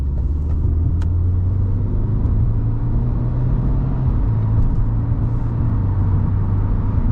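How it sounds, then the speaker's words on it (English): Cabin drone of a 2022 Subaru WRX GT with the turbo boxer four cruising on the highway in comfort mode, a steady low engine hum and tyre roar at constant loudness, no talk. "we're hitting the highway in the WRX"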